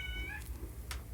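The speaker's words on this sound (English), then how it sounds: "That was one of my cats." A house cat lets out a short meow with a rising, then falling pitch, close by over a low background hum, followed by a faint shuffling noise.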